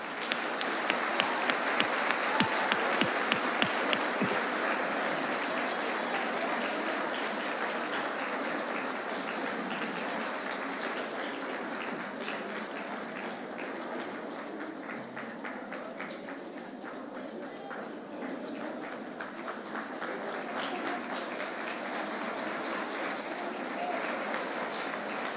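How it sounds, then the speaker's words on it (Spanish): Concert audience gives a long round of applause welcoming a choir onstage, strongest in the opening seconds and then settling into a steady, softer patter that continues to the end, with faint background voices. "Vamos a recibirlo con un fuerte aplauso"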